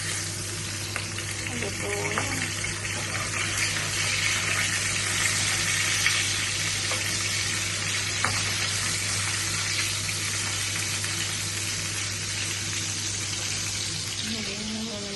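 Milkfish (bangus) fries in hot oil for sarciado, a steady, dense sizzle sprinkled with sharp pops and crackles, with a brief spoken question partway through.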